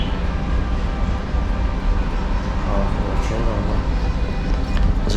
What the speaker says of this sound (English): train going by as we speak.